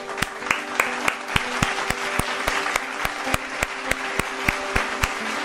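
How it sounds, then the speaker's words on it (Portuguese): Rhythmic, steady clapping repeats in an even beat for several seconds, sharp and close, over a faint background tone. "Salva de palmas pra conclusão do roteiro"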